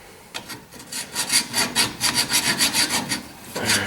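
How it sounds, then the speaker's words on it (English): Grinding metal down on a VW Beetle axle part, a loud, close, rhythmic rasping stroke repeated back and forth in a steady series. "So we're still trying to grind this down."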